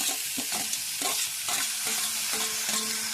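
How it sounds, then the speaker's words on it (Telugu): Tomatoes fry in a pan, making a continuous bright sizzle broken by repeated scraping stirs at a steady, quick rhythm, close and with no voices. "టమాటా బాగా మగ్గే వరకు అయితే వేయించుకోవాలి"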